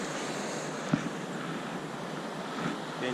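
Ocean waves washing at the water's edge of a beach, a steady broad roar with mild wind buffeting on the microphone and one brief knock partway through, no voices.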